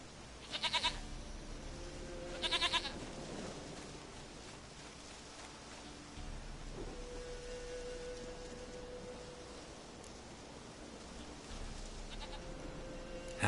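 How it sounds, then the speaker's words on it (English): Goat bleats twice in a Witcher 3 game scene, two short loud cries early on, then a quiet ambient backdrop with a held musical tone and no speech. "Goat of mine, dearest, sweetest goat."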